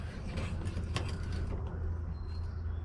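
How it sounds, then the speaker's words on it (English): A hand crank on a cargo trailer's RV roof vent turns with a short run of close creaking, grinding mechanical clicks, fairly quiet and steady, with no talking. "I'm gonna try my crank and make sure it works"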